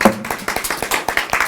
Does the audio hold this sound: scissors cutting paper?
no